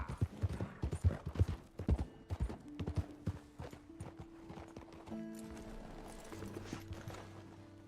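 Horse hooves clip-clopping in the video game Red Dead Redemption 2, a close, steady run of hoofbeats that slows and fades as a low tonal hum rises near the end.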